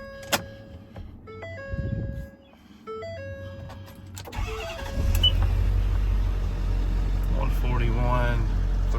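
A 2011 Ford F550 mechanics service truck with crane, compressor and welder has its engine cranked and started, followed by a steady idle rumble and the power take-off engaging. Electronic chimes and beeps come first, and a voice speaks briefly.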